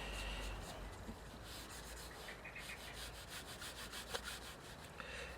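Ink being rubbed through a stencil onto a stamped card, a very faint, steady scratchy rubbing close by, quiet and continuous with no talking.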